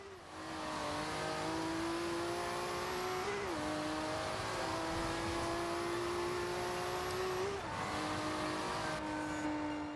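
Fully upgraded, 1,005-horsepower 2JZ-swapped Subaru BRZ in Forza Horizon 2, its engine screaming at high revs in sustained pulls with two quick shift dips, tires squealing along, loud and close with no talk.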